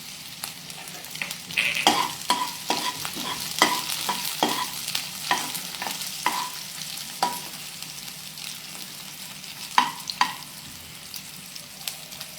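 Green chillies fry in a pan under a steady sizzle while a spoon stirs them, producing repeated sharp scrapes and clinks in an irregular rhythm, close and clear with no speech.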